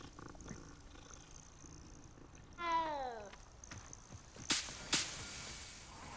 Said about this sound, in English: Fine, another cat.